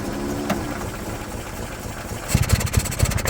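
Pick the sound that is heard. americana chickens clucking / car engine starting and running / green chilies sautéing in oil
car engine starting and running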